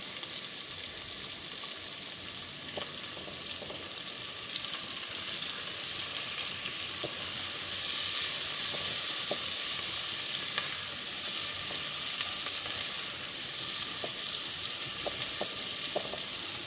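Ingredients fry in a wok for homemade chicken chow mein, producing a constant bright sizzle with scattered light clicks of stirring, which grows slightly louder midway.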